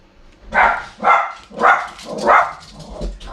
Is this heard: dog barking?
yes